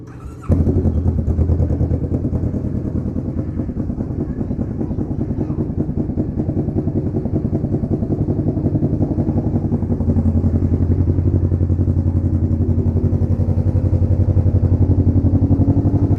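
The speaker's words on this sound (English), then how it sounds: "Vulcan S ABS with a huge modification on the exhaust." A Kawasaki Vulcan S 650cc ABS cruiser motorcycle with a heavily modified exhaust fires up and runs with a deep, loud, throbbing exhaust note, steady and close, with slight revving toward the end.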